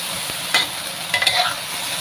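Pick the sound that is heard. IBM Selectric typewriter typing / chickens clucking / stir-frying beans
stir-frying beans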